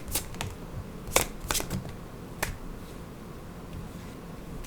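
Tarot cards handled and shuffled during a reading, heard as a few quick papery riffles and sharp card snaps, spaced irregularly over a faint background.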